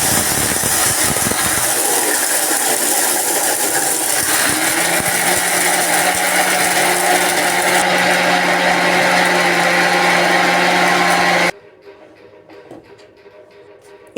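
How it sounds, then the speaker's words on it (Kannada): A kitchen mixer grinder powders dry coconut pieces with rock sugar, cardamom and poppy seeds, a loud continuous whirring, rattling grind running steadily for about eleven seconds before cutting off abruptly into near silence. "ಡ್ರೈ ಕೋಕೋನಟ್ ಒಣಗಿರುವಂಥ ಕೊಬ್ಬರಿಯನ್ನು ತುಂಡು ಮಾಡಿಕೊಂಡು ಮಿಕ್ಸಿ ಜಾರ್ನಲ್ಲಿ ಹಾಕ್ಕೊಂಡೆ"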